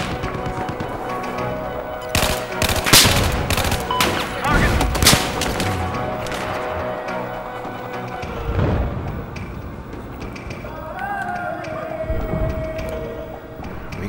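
Gunfire and explosions in Battlefield 4, a dense barrage of sharp overlapping cracks and crashes in the first half that thins into rumbling battle noise, with faint whining tones later.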